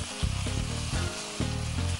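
Spice paste hisses into a pan of frying fish with ghee and garam masala, a steady close sizzle broken by repeated scraping stirs, loud and continuous with no voices.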